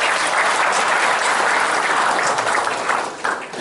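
Loud, sustained applause from an audience at a Chamber of Commerce Day breakfast gathering in Gumi, a dense wash of many clapping hands that holds steady and then thins slightly near the end.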